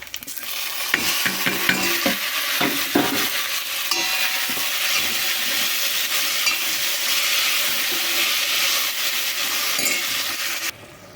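Tomato pieces frying in a hot tempering for a cabbage tomato curry, a loud continuous sizzle close up, broken by several sharp scrapes and knocks of a spoon stirring the pan, with no talk.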